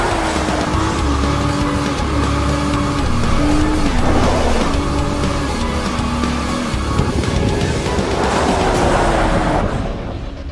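Nissan GT-R with 540 horsepower and all-wheel drive racing flat out on an ice track, its engine droning loud and close with rising and falling pitch through gear changes.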